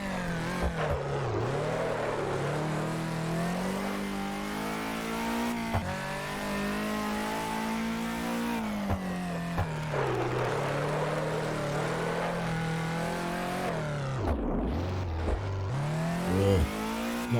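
An Abarth race car engine in the Classic Racers video game revs and drones with a steady, rising and falling tone and repeated upshifts, loud and close, with no talking.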